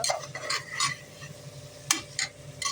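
Onion and tomato sautéing in a pan for bitter gourd kootu, a soft close sizzle with scattered scraping stirs and light utensil taps against the pan, with no voices.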